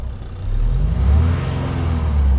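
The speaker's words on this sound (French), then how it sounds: "On a l'impression que l'échappement est un peu plus ouvert" A Renault Talisman's exhaust rumbles close by as the engine revs, a deep, steady low drone that swells slightly partway through.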